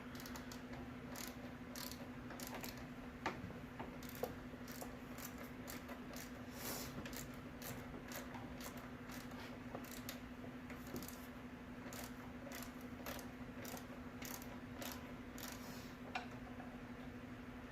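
A ratchet wrench turns a bolt on a 2000 Toyota Camry alternator adjuster, with a faint run of quick, regular clicking strokes over a low steady hum.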